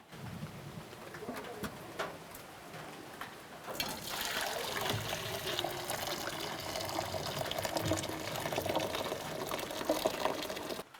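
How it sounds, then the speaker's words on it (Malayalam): Water from boiled cut tapioca (kappa) is drained off into a basin, a loud rushing pour that starts a few seconds in and continues steadily, with faint bird cooing in the background. "ഇനി ഞാൻ കപ്പ വാർത്തെടുക്കാൻ പോവുകയാണ്."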